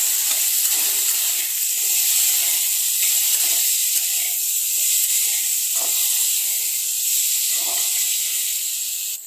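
Potato curry sizzles steadily in a pan, a continuous bright frying hiss with soft scraping knocks as it is stirred, close and fairly loud with no talking.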